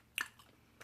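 Close, quiet chewing of spicy Korean rice cakes (topokki), with two short moist bites about half a second apart.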